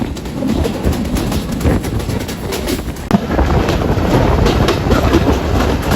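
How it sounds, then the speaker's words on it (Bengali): A passenger train bound for Jhikargachha, heading toward Gadkhali in Jessore, pulling away and running on the rails, a loud, steady rumble and clatter heard from inside a carriage with a sharp bump midway. "অবশেষে ট্রেন ছাড়ছে জিকরগাছার উদ্দেশ্যে।"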